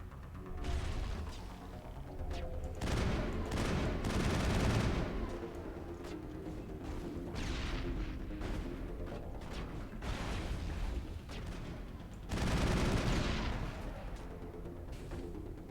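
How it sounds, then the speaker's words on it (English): Video game gunfire rattles in repeated loud bursts around 1–5 s and again near 12–14 s, with a steady mechanical rumble of the game's soundscape underneath throughout. "Who's shooting at me?"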